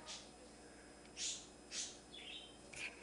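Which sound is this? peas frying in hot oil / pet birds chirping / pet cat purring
pet birds chirping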